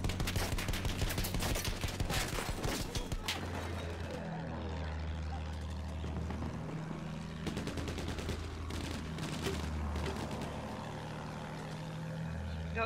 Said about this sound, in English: Everybody's shooting at us.